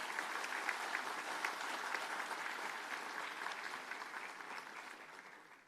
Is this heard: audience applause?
yes